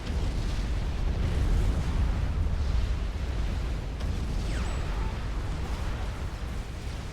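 Strategic bombers drop bombs on Titan units in a Supreme Commander: Forged Alliance 6v6 match, a steady, dense roar of rumbling explosions and booming blasts that barely lets up across the whole stretch.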